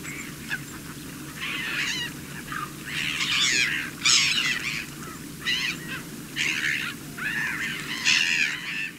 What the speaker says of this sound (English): they're usually full of birds